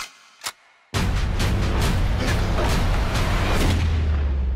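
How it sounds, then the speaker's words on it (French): A single sharp crack, then a loud dense burst of rapid gunfire that continues steadily, close and harsh. "Les officiers ont entendu des coups de feu."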